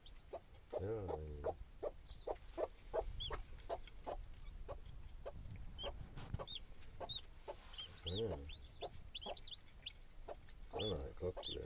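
Farm chickens cluck repeatedly and close by in quick, irregular bursts with occasional higher squawks, continuing throughout with faint background noise.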